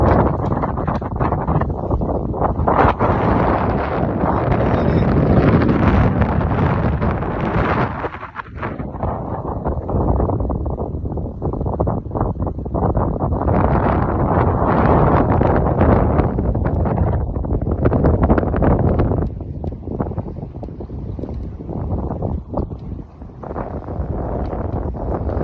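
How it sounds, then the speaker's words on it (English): Strong wind buffets a sailboat riding at anchor overnight, a loud, continuous roar with broadband gusts that swell and ease over the whole stretch, no voices. "Didn't have the best night, there's a lot of wind"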